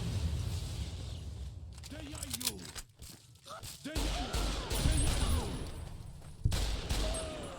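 A plasma grenade goes off in heavily modded Fallout: New Vegas, giving sharp broadband bursts mixed with gunfire-like cracks while someone talks over the action.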